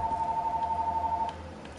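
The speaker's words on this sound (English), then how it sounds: "Bro, answer the phone!" An electronic telephone ringing inside the Black Ops 3 video game, a steady loud tone holding for about a second and a half before cutting off, then continuing faintly over game background noise.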